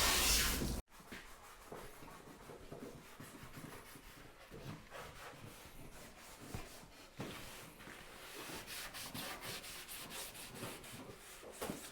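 Three people scrubbing original red paint off a 1968 GMC C2500 truck panel by hand, a steady abrasive rubbing with repeated strokes, fairly close and moderately loud, with no talking.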